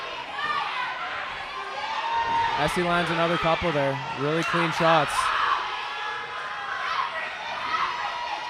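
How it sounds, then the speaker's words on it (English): Crowd cheering and shouting at a live fight between two women, a steady roar of voices with a few sharp yells, mostly under close commentator talk. "the crowd's going pretty intense right now"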